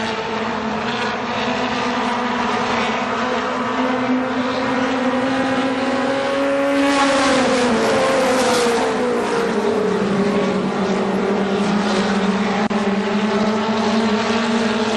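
ARCA SuperCars roar around Kil-Kare Speedway in a continuous loud engine drone, pitch sweeping as cars pass by and shift around the oval, with no talk over the racing noise.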